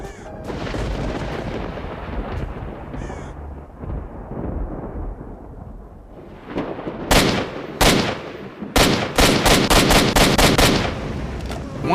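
Rifle fire in a video game, rapid loud bursts of shots rattling in quick succession during the second half, following a stretch of rumbling game noise and sporadic earlier cracks.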